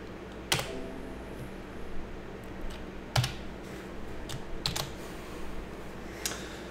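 Someone typing a Java class name on a computer keyboard: scattered, sharp key clicks with uneven pauses, close and fairly quiet, with no talking.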